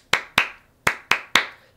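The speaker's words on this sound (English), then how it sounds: "we'll just do three claps" Hand claps used to get students' attention in a middle and high school group setting: five sharp, close claps in an uneven rhythm, each with a short ringing decay, with no talking.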